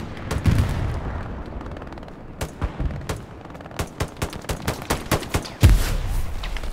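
Artillery fire and grenades in a multiplayer war video game: a string of sharp, repeated blasts and booming impacts at irregular intervals, with a couple of heavier thuds standing out over a rumbling battlefield background.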